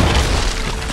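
Crashing, booming destruction as a house is torn down in the video game Assassin's Creed 3, a dense, loud rumble with splintering debris sustained for a moment, no talk.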